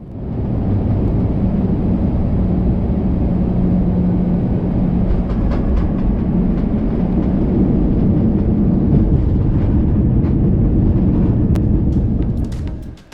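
Cabin noise inside an older Iberia Airbus A321 in business class, descending toward runway 32 left at Madrid Barajas: a loud, steady low rumble fills the whole stretch, with faint clicks and rattles near the end.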